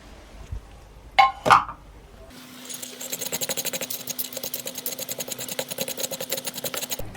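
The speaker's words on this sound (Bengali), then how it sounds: "এখন গুঁড়া করে নেব পাঁচফোড়ন আর শুকনো মরিচ।" An electric spice grinder pulverising fried panch phoron spices and dried chillies: a steady high whirring motor with a rapid rattling of seeds, after a couple of clinks and knocks at the start.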